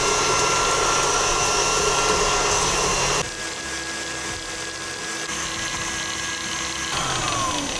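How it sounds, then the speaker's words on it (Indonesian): An electric mixer whirs loudly, beating eggs and sugar for a mocha sponge cake, a continuous motor drone that drops to a lower, quieter pitch partway through and then rises again. "Akan kocok lagi sampai dia ngembang dan pucet."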